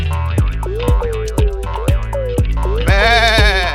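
Comic goat bleat sound effect, a series of loud, close, wavering bleats repeated in quick rhythm over a bouncy backing beat, growing busier toward the end.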